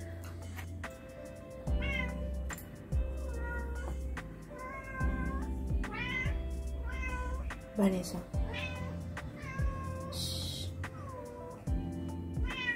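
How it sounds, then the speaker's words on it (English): A pet cat meows again and again, with drawn-out and rising calls spread across the stretch, heard close by while a person talks softly in between. "Seems like my cat wants to say goodbye to all of you guys."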